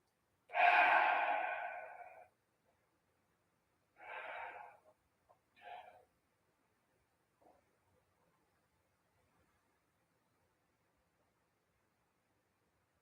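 Steady breaths during a rocket yoga flow: a long, strong exhale at the start, then two shorter breaths and a few faint puffs. Close and isolated, no talk over them.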